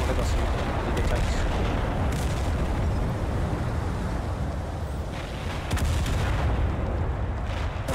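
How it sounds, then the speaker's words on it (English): Artillery fire and explosions in the war video game Total Conflict Resistance, a dense, loud, continuous roar of booms and blasts with rumbling bursts layered throughout. "And that is, I believe, one of their artillery pieces"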